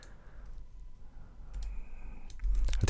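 Computer mouse clicks sound during a Photoshop drawing lesson while the Alt key is held: a few faint, crisp clicks close to the microphone over a low background hum, with no voice.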